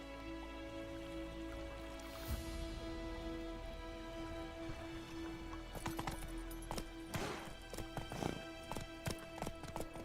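Rhythmic hoofbeats from a horse in the Witcher 3 game, first a soft steady clatter and then a louder, busier stretch of hard clip-clops near the end, with some rain-like patter mixed in.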